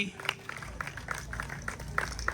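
An audience at an award ceremony claps in a busy, moderately loud patter of many hands, with voices murmuring underneath.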